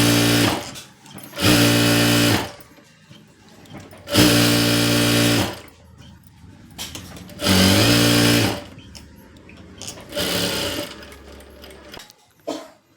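A sewing machine stitches a blouse in several loud, steady bursts of a few seconds each, separated by short pauses with quieter handling noises in between.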